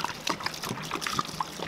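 Eastern North Carolina style barbecue sauce pours from a shaken jug over a whole hog cooked on wood: a thin, steady trickle and dribble of liquid close by, with small splashy ticks scattered through.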